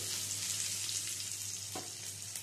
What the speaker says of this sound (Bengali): পেঁয়াজ কুচিটা দিয়েও একটু নেড়ে ছেড়ে নিচ্ছি।